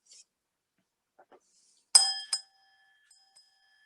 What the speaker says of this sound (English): Let's try tapping the glass again.